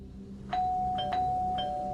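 A doorbell chimes several times in quick succession, clear bright rings sounding alone over a quiet room.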